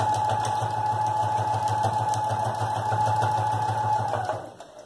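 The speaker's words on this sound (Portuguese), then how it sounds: "eu vou dar um retrocesso." A sewing machine backstitches a seam on a child's backpack, a steady fast mechanical whir with a constant hum throughout that slows and drops off at the very end.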